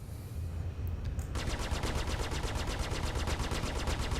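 M50 ship guns in Star Citizen firing a rapid, steady stream of shots, a dense mechanical rattle that starts after a brief lull and keeps pounding loudly to the end.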